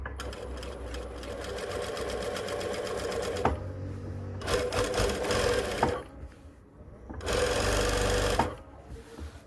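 A sewing machine stitches jogger trousers in three long loud runs of steady rapid whirring, with brief quieter gaps between them.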